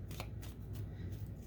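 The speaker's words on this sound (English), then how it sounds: "Two more shuffles" Tarot cards shuffled by hand, a few quick soft riffling bursts close by and fairly quiet, with no talking.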